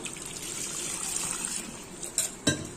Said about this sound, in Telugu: దీంట్లో వాటర్ పోసుకున్నాము